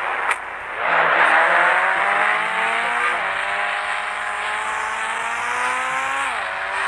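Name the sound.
Toyota Fortuner car arriving and driving in a video game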